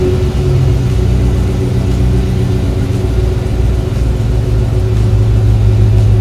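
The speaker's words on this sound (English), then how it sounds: "now that we got it on, we'll crank the engine and see how she runs." An LS V8 engine fitted with an EFI system runs at a steady, loud idle, a deep continuous rumble with slight throttle rises, close by and alone without talk.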